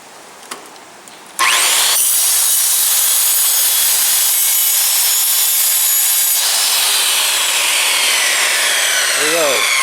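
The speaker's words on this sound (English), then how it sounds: "here we are cutting one-handed with a skill saw" A circular skill saw, held one-handed, bites into a tough Lexan polycarbonate sheet meant for jet boat windows: after a brief quiet moment the blade roars up and cuts continuously, loud, close and harsh, with a high whining rasp throughout.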